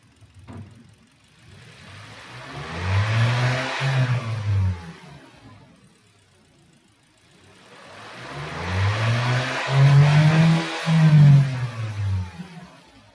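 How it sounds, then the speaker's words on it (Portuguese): A car engine is revved twice, each time climbing to a loud roar before the throttle is suddenly released and it drops back toward idle, heard up close with no talk. "Agora eu vou acelerar o veículo e vou tirar o pé do acelerador repentinamente."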